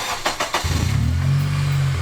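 A manual Honda car's engine cranks briefly, then catches and settles into a loud, steady low idle burbling through a newly fitted exhaust, close by.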